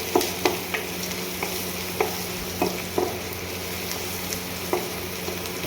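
Onions frying with turmeric and salt in a pan, a steady close sizzle broken by a few sharp clicks of stirring, no voices.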